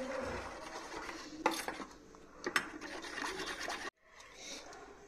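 Spoon whisking sour yogurt in a bowl for a steamed prawn dish, giving soft scraping and stirring with a few sharp clinks against the bowl, close and fairly quiet, stopping briefly before resuming.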